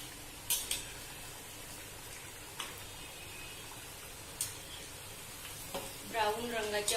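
Dal batti frying in oil on medium heat: a faint, steady sizzling hiss with a few sharp ticks and pops, and a voice speaking briefly at the end.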